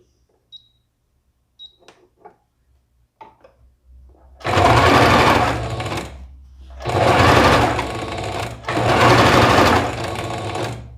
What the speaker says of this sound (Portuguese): A gente começa costurando e dá o retrocesso lá em cima, tá bom?